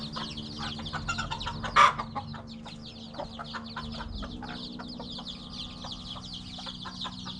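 Bantam chickens clucking steadily close by, a busy cluster of short clucks with one louder squawk early on, over a low hum of background noise.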